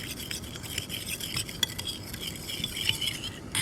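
A spoon stirs a small sauce of sugar, vinegar and white pepper in a bowl, producing a continuous clinking, scraping patter that sounds close and steady, with no voices.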